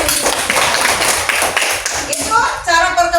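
Classroom clapping for a student, a burst of hands clapping that fades out as other noises and voices come in toward the end.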